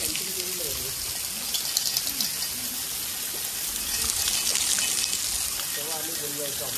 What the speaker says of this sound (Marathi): आपण पाणी घेणार एकदम शुद्ध वरनं वॉटरफॉलमधनं पडतंय